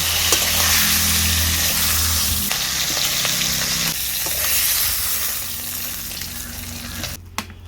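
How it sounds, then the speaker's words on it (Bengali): A fish head fries in hot oil with a loud, continuous sizzle close by. The hiss eases slightly over time and ends with a brief utensil clatter. "মাছের মাথাটা কিন্তু ভাজা হয়ে গেছে"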